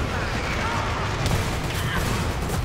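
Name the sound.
grenade explosion in the video game Dirty Bomb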